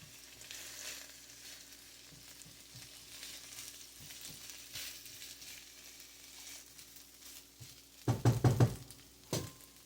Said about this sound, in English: Leftover basmati rice. Give that a stir.